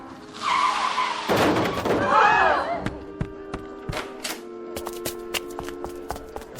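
A car skids and screeches as it brakes hard in a radio drama, a loud tire squeal rising then cutting off, followed by scattered clicks and light knocks.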